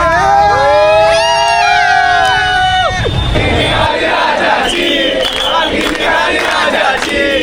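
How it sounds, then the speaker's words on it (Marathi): Dense crowd at the Lalbaugcha Raja Ganesh immersion procession shouting together, with loud whooping chants at first giving way to a continuous roaring mass of voices, close and overwhelming. "गर्दी मजबूत आहे"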